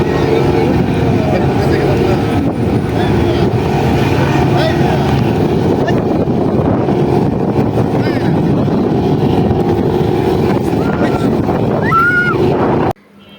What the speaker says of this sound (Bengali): আপনারা যে ইঞ্জিনের সাউন্ডটা শুনতে পাচ্ছেন সেটা পাশেই আরেকটি ছোট একটি লঞ্চ আছে, সেই লঞ্চের ইঞ্জিনের সাউন্ড